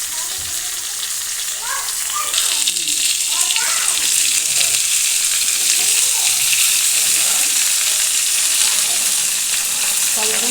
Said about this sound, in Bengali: এবার ভালোভাবে সব রকম সবজিগুলোকে ভেজে নেব